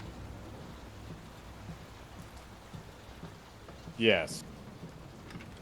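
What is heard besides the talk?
rain storm in the video game Layers of Fear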